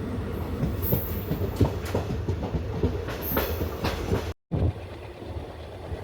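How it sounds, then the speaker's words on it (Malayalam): A diesel express train rolls past the platform at Karunagappally with a steady rumble and rhythmic clickety-clack of wheels over rail joints, close and continuous, with a brief dropout near the end. "ട്രെയിൻ ഇവിടെ നിന്ന് എടുക്കുമ്പോൾ നല്ല സ്പീഡിലായിരിക്കും എടുക്കുന്നത്."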